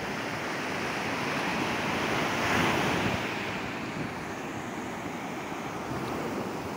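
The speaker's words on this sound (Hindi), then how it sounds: "तो अभी हम बुर्ज अल अरब के बीच पर हैं," Sea waves wash onto the beach by the Burj Al Arab in Dubai at night, a steady broad surf roar with wind buffeting the microphone and a gentle swell in loudness partway through.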